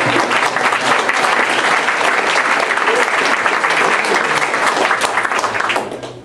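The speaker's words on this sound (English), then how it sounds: "he deserves a round of applause" Loud, sustained applause from an audience at an evening reunion gathering, dense steady clapping lasting several seconds before tapering off at the end.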